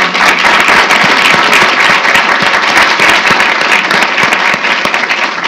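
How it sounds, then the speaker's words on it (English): Sustained audience applause after a constitutional law symposium panel, dense and loud clapping filling the room steadily throughout without pause. "Please give a round of applause to our great panelists."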